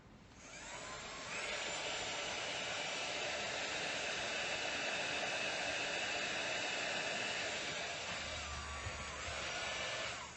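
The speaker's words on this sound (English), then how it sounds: "I'm just going to use my heat tool." A heat tool blows hot air during a papercraft project. A continuous, even whoosh rises within the first second and holds steadily throughout.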